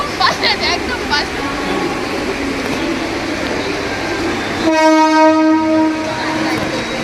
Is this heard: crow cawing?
no